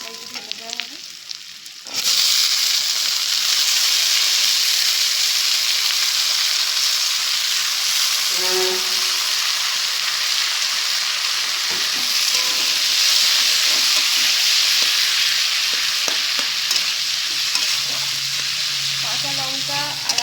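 Onions fry until reddish for a jackfruit curry. After a quieter start of a couple of seconds, a loud, close, steady sizzle and crackle takes over and runs unbroken, with occasional utensil knocks and a brief tone near the end.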